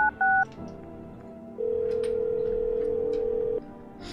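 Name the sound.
telephone dialing in video game No, I'm Not a Human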